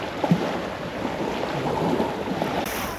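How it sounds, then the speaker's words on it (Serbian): Sea waves washing onto a Greek beach in the early morning, a soft continuous rush of surf with some wind noise and small thumps, no voices. "čujete samo šum mora i škripu pod nogama"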